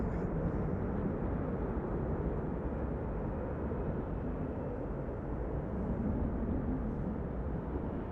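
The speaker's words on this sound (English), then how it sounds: "That's the sound of the departure from runway 24." A deep, continuous jet engine roar rumbles steadily throughout, heavy in the low end, as an airliner departs runway 24 at Amsterdam Schiphol Airport after Storm Elin.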